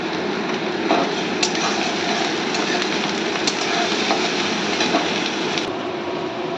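Black cumin, garlic and onion fry in hot mustard oil, giving a steady, close crackling sizzle that runs without a break, with faint clicks of utensils on the pan.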